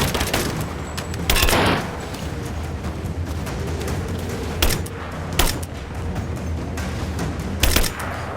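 Gunshots fired at enemies' heads in the video game Tomb Raider, a few loud sharp cracks spaced a second or more apart over a steady bed of game ambience, with no talking.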